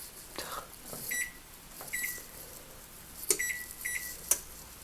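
Short electronic timer beeps sound in a home kitchen during New York style bagel making. Four beeps come at uneven spacing, with light clatter and thuds in between.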